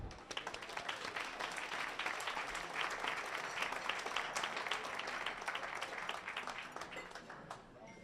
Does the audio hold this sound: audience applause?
yes